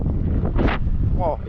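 Steady wind buffeting the microphone with a low rumble throughout, briefly gusting, and a voice speaking over it.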